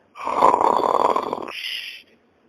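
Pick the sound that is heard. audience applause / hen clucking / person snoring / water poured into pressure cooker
person snoring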